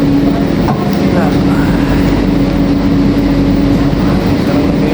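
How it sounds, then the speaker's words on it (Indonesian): The Jabodebek LRT, a driverless light rail train, rumbles loudly and steadily from inside the car, a continuous roar with faint rail clatter and no speech. "sekarang kita masuk ke LRT-nya nih guys."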